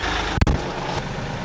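A truck rolls forward while trying to decouple a stuck PTO, a low engine rumble with a sharp thump or clunk near the start, then a steady idle-like drone.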